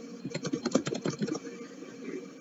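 Rapid typing on a computer keyboard while entering comments in IBM TRIRIGA maintenance software: a quick run of close, crisp key clicks that thins out into sparser taps.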